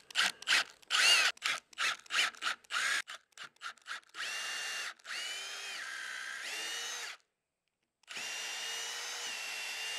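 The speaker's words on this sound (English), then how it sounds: "Let's get some pilot holes drilled because this is such a hard wood." A power drill boring pilot holes into a hardwood beam for a sawmill shelter, close up: first a series of short bursts, then longer sustained runs with rising and falling pitch, separated by brief pauses.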